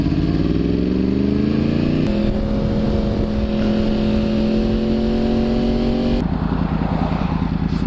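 Motorcycle engine and exhaust revving loud and close, a steady droning note that jumps higher in pitch twice, like gear changes or throttle blips, with no talk over it.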